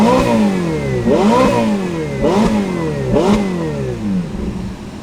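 A Ferrari with a reported major engine fault revs repeatedly, four rising-and-falling throttle blips in roughly one-second bursts over a steady idle, loud and close.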